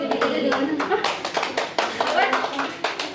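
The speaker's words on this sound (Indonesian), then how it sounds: "Tepuk tangan untuk" Students applauding in a classroom during a teaching practice session on economic activities, a burst of brisk, uneven clapping from a small group, close and lively, with some voices mixed in.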